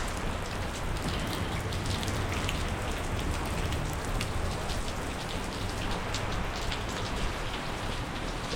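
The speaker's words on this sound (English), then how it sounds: "the sound of the rain" Steady rain patters densely on surfaces in sunshine, a continuous close wash of drops with no pauses and no voices.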